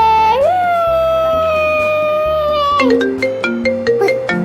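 A mobile phone rings with a loud electronic ringtone, first a sustained gliding tone, then a bright melodic run of short repeated notes, close and clear with no talking.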